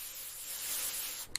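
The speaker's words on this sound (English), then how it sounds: "I spray air freshener." Air freshener being sprayed in a bathroom, a single short airy hiss lasting about a second, close and fairly quiet, ending with a small click.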